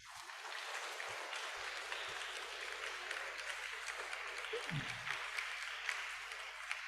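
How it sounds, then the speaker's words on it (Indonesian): An audience at a community dental health event claps together: a faint, steady wash of applause that carries on evenly, heard from a distance in a large space, with a brief low thump partway through. "Tepuk tangan dulu untuk kita."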